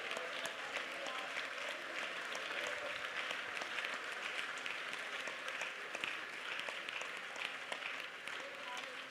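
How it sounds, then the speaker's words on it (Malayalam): A church congregation at a Pentecostal Sunday prayer service claps in praise. The clapping is dense and continuous, a steady wash of many hands at even loudness throughout, with voices mixed underneath. "കൈയടിച്ച് സ്തോത്രം പറ"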